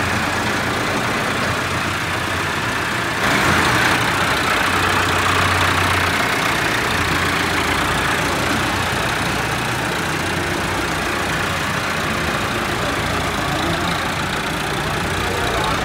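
A Buraq tractor engine idles nearby with a steady, low, rumbling drone that holds loud and even throughout, growing slightly fuller after the first few seconds.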